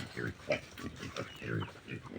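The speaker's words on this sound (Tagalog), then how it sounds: "Papasok niya na, na yung mga baboy namin doon sa kulungan." Four pigs grunt and squeal repeatedly in short, rough bursts, close and fairly loud, while being driven into their pen, with someone talking over the animal noise.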